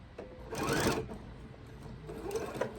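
A sewing machine stitches through quilt fabric in two bursts of rapid, steady running with a brief slower stretch between them, close and fairly loud.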